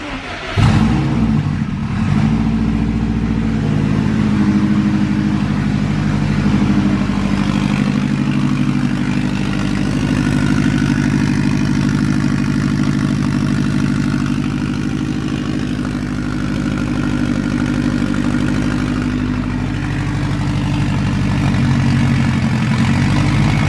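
A 400-horsepower Subaru WRX engine runs after a first start with new custom lines and EVAP delete, a loud, dense, steady rumble at idle after a brief opening burst, close by throughout.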